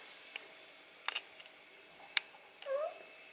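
A house cat in a quiet room gives one short, faint meow near the end, after a few small clicks and taps.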